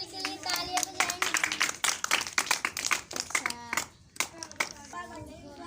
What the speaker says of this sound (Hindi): सब बच्चे मिशेल के लिए तालियां बजाएंगे।